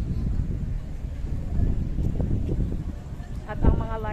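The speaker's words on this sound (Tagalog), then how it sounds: "Lakas ng hangin dito, gawa, syempre, pa-winter na." Strong wind at a waterfront memorial park facing Kowloon on a cool evening near winter, a steady broad rush buffeting the microphone throughout, with a brief louder gust near the end.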